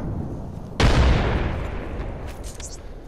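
A frag grenade detonates in a video game with a sudden loud, close boom whose rumbling blast decays over a few seconds, with faint scattered sounds near the end.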